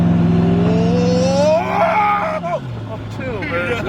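A Koenigsegg Regera accelerates on a street near a red light, its loud engine drone rising steadily in pitch before easing off, with a person speaking over it throughout.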